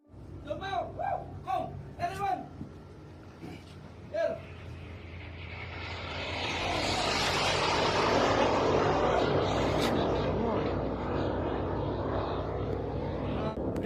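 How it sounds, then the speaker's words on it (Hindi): Tomahawk missiles fly over a merchant ship in the Middle East, a loud rising roar that swells after some earlier talk and then holds steady, a sustained airy rush passing overhead. "मध्य पूर्व का एक व्यापारी जहाज टॉमहॉक मिसाइलों को अपने ऊपर से ईरान की ओर जाते हुए रिकॉर्ड करता है"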